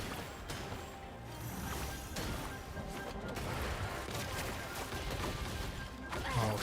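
Dense, continuous barrage of explosive impacts and rapid blasts as a boss fires homing missiles in Genshin Impact's 5.0 Natlan Archon Quest, loud and steady throughout with crashing game effects layered over it.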